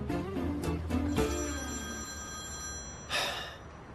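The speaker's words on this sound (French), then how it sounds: "C'est Ferit. Allô, Ferit" A telephone rings in a dubbed TV drama, with a bright, repeated electronic bell trilling in short bursts, then a softer breathy sound after a pause.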